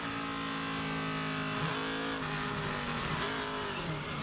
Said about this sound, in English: You can hear the throttle. He gets in it, starts spinning the wheels.